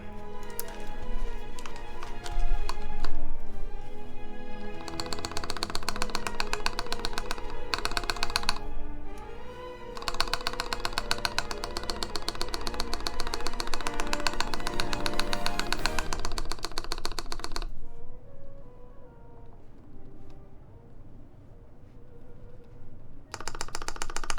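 Keys clatter and tap on a mechanical keyboard fitted with GMK Carbon keycaps during a Baionlenja Bias v2 build, a dense, steady run of close keystrokes that drops off near the end before a few final taps.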